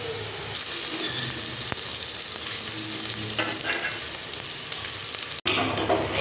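Rice goes into hot ghee with cashews for a pulao and fries in a steady, close sizzle, with light stirring scrapes and one brief clatter near the end.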